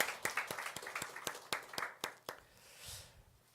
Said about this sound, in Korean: 우리 또 한번 큰 박수로 또 환영하도록 하겠습니다.